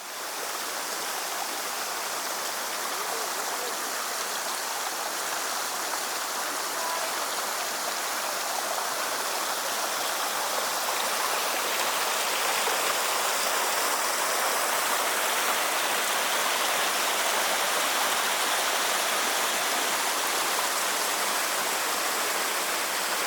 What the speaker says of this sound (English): Things about Old Furnace State Park is this really cute little waterfall.